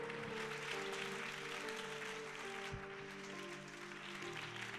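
A congregation at a church service applauds and acclaims the Lord: dense, continuous clapping and crowd noise over sustained musical tones, heard steadily from a slight distance throughout.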